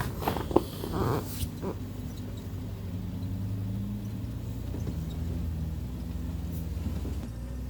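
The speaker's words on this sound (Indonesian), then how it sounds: "Mobil jeep jalannya semakin jelek, goyang-goyang, banyak sekali guncangan di sini." A jeep's engine drones steadily as it lurches along a rough, bumpy road near Kaliurang, with a low hum punctuated by knocks and rattles from the cabin jolting over potholes.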